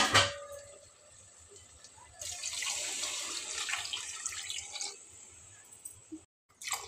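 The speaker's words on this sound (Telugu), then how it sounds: "కారం కూడా ఇప్పుడైతే తగినన్ని నీళ్ళు పోసేస్తా" Water pours into a pot of sambar with chili powder and cooked drumsticks and vegetables, a loud splashing stream for a few seconds that tapers off, quiet apart from a brief start and stop.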